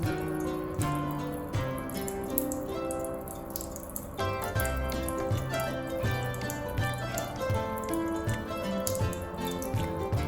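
Water priming through a Berkey water filter, heard as steady dripping and trickling liquid that stays fairly constant throughout, with soft background music underneath.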